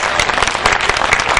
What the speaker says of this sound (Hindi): गजल जो सुनना चाहते हैं ताली बजाकर बताइए